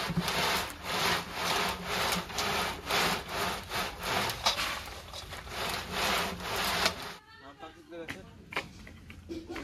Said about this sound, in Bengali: বাদাম ছাড়ানো মেশিন ছাড়